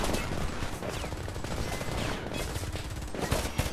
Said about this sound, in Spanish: Ametralladora en la ventana de la segunda planta. Se tiene ametralladora.